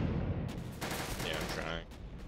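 Bursts of automatic gunfire aimed at a tank in the Empires game mod, rapid overlapping shots in a busy battle mix at moderate loudness.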